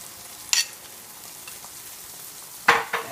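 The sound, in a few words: veggie omelet egg mixture frying in a pan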